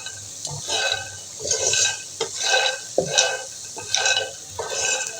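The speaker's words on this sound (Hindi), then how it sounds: "तो हमारे मखाने ये हो गए फ्राई" Makhana (lotus seeds) fry in a pan while being stirred, with repeated scraping strokes in an even rhythm over a soft sizzle, close by, no talking.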